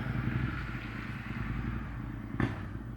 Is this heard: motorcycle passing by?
yes